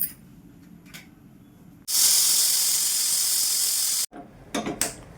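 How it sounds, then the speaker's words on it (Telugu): A pressure cooker cooking spinach and sorrel leaves with dal lets out a loud, steady burst of hissing steam for about two seconds, with quieter clicks and rattles of the weight before and after it. "కుక్కర్కి 3 విజిల్స్ రావాలండి"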